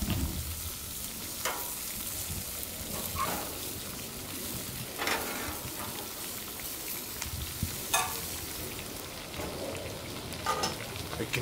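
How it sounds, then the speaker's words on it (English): Minced garlic sizzling and browning in a pan, a soft steady frying crackle with scattered sharper pops and stirring scrapes, fairly faint and without talk. "we'll add the garlic and we'll give it a chance to brown up a little bit right before the end of the dish"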